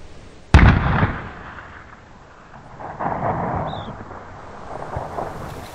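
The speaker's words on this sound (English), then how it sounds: "This is the very first shot." One loud rifle shot cracks out across mountain terrain during a Kamchatka snow sheep hunt, then booms and rolls away as a long fading echo, with distant rumbling afterward and no voices.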